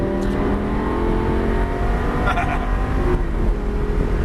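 A car on a race track accelerates under a continuous loud engine roar, with rising revs and a brief shift blip midway, heard close from inside the vehicle.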